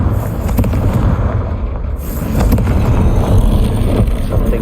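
A Confringo spell blast goes off in the video game Hogwarts Legacy, a loud, rumbling fiery explosion that roars on steadily and swells midway, with no talk over it.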